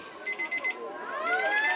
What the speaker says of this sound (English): You can hear the buzzer go in the background.